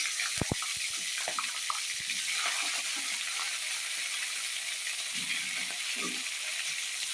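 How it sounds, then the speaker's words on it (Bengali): Cauliflower florets frying in hot oil in a wok, an even hiss of bubbling oil with a few sharp clinks near the start and faint stirring knocks later, close but fairly quiet. "কড়ায় আমার তেল গরম হয়ে গেছে, এবারে ফুলকপিগুলো দিয়ে দিলাম।"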